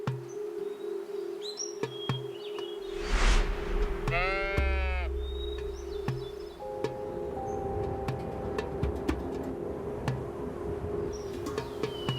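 Bighorn sheep in an American mountain setting, with a single clear bleat near the middle, scattered bird chirps and a steady low background hum, moderately faint and with no talking.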